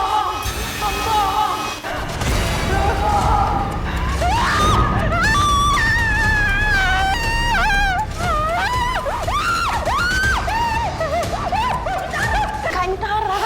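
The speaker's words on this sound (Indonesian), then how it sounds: "Kok teriak kayak gini?" A woman screams repeatedly in a dramatic Indonesian TV scene, loud wavering cries rising and falling over several seconds, with thumps and other voices mixed in.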